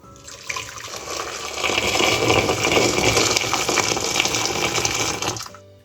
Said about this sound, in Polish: wkładamy do niego umyte pomarańcze, zalewamy gorącą wodą